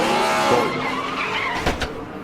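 A 2015 TCR International touring car with a rear puncture spinning out, tires skidding and squealing under a loud, wavering engine, with sharp scraping bursts near the end.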